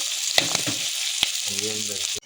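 Soaked chana dal frying in hot oil gives a close, steady sizzle with a few sharp stirring clicks.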